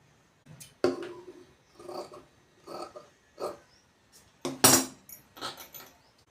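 Scissors snipping through blouse fabric, a series of about eight crisp cuts spaced at an uneven rhythm, close and fairly clear with no talking.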